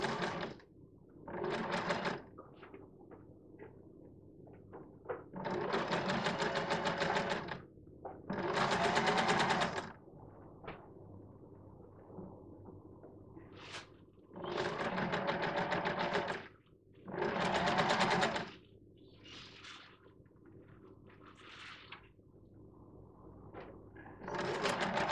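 A sewing machine stitches a seam on a gown, running in several separate bursts of steady, rapid whirring, each a few seconds long, with quiet pauses between them and no talk.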